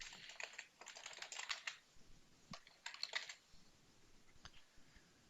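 Quiet, irregular bursts of keystrokes on a computer keyboard while data is entered into a form, with clustered clicks separated by short pauses, close and faint.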